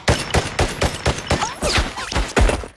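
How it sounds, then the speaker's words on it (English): Rapid bursts of gunfire in a creature-hunting action film scene, a fast volley of loud, close shots about every third of a second, continuing steadily throughout. "The bullets went right through it."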